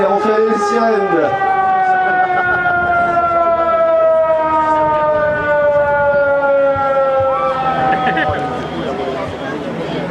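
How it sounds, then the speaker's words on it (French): A loud wailing police siren holds a long steady tone close by at an air show, sliding downward near the end, with crowd chatter and voices mixed in beneath. "on fait les sirènes"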